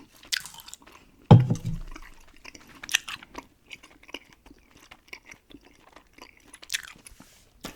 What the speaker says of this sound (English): let's get to the gum chewing part of this